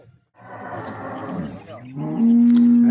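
Cattle at a cow sale in Jamnagar, a loud close moo rising into a long drawn-out low call, with a brief sound before it starts.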